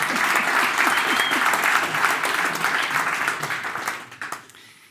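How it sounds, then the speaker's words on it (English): An audience at a parcel logistics conference gives a warm round of applause for an arriving speaker, steady many-handed clapping that thins and fades away near the end. "So please give him another warm applause."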